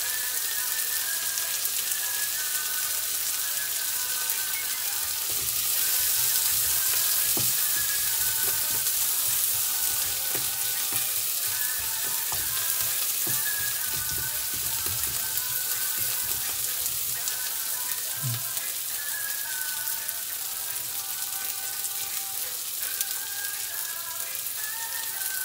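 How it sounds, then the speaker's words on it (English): Garlic, ginger, chilies and onions fry in a pan for pork and chicken noodles, making a continuous hissing sizzle with scattered soft stirring knocks and scrapes, fairly close and steady throughout. "This is the garlic, the ginger, and a few little chilies and onions, well cooked."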